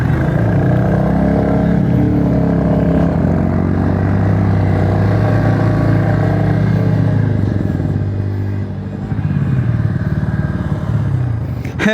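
A motorcycle engine on a mountain ride toward Keokradong peak in Bangladesh drones loud and close throughout, its pitch shifting as the bike labours and eases, with no talk over it.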